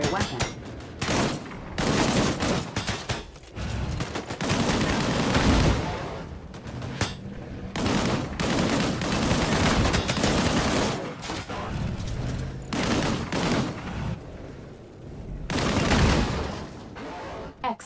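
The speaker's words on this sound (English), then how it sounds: "Engage the enemies ahead using your primary weapon" Primary-weapon gunfire in the shooter game Disintegration, with dense bursts of loud rapid shots in long volleys separated by brief pauses, plus booming impacts.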